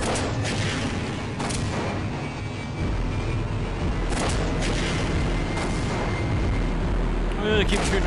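Gunfire from the video game Half-Life rings out in sharp repeated bursts with booming echoes over a dense, loud mix of game noise and rumble.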